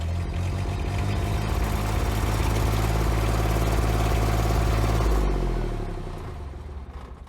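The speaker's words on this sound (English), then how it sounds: "the engine can now be started by turning the key to position 2 momentarily" A potting stove unit's engine runs with a steady, loud mechanical hum and drone, then winds down and fades toward the end.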